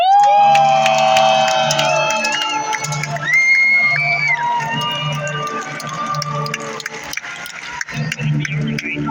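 A crowd at a live sword-fighting show cheers and whoops to welcome the sword fighter Sir David Benamé, a loud, sustained roar with high whistles and shouts that slowly fades.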